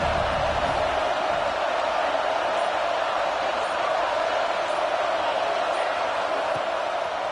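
A stadium crowd in a football video game broadcast roars in a steady, continuous wash of cheering that holds at an even level throughout with no pauses.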